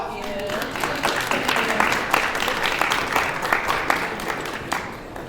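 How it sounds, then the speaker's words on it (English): Audience clapping for a panel at the HBCUniverse Summit Money Talk$ session, a mid-level patter of hands with distinct sharper claps, voices talking over it. "One more round of applause for our panel."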